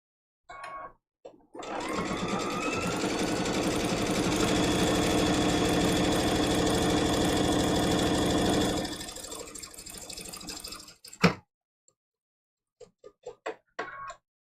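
A sewing machine stitches a quilted mug rug in one long, steady, close run of rapid needle clatter, then slows and stops, followed by a sharp clunk and a few faint clicks.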